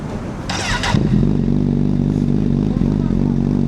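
A Honda CBR1000RR sport motorcycle engine cranks with a brief clatter, catches and settles into a loud, steady running rumble close by.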